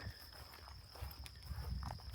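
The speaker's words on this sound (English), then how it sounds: "You only hear the crickets." Crickets chirp in a steady high-pitched drone throughout, with soft low thumps and rustling underneath, on a rural homestead with cattle in Malpica do Tejo, Castelo Branco, Portugal.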